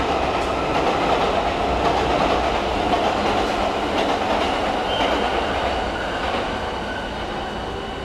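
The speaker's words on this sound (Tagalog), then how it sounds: "Ayan yung train." A train rolls past near Miyashita Park in Tokyo, a loud steady rumble with rail clatter and faint metallic squeal, close by and slowly easing in level toward the end.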